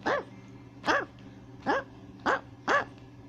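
A small Pomeranian dog barks five times in a steady rhythm, sharp high yaps spaced under a second apart, close by.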